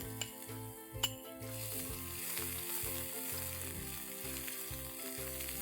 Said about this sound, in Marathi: तेल तापलंय आपलं। आता आपण लसूण, आलं, मिरची याचा क्रश आहे 2 टेबलस्पून आहे हे टाकून घेऊया।